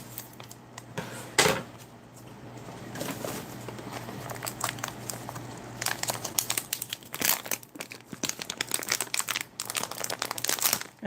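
Crinkly plastic of a Daff Black Line Paella ration pouch crackles and rustles up close as it is cut open and handled, the sharp crinkling bursts continuing for several seconds with no talk.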